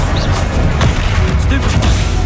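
Spell-casting combat in Hogwarts Legacy: a loud, continuous wash of magical blasts, crackles and booming impacts with no pauses, several hits landing in quick succession across the whole stretch.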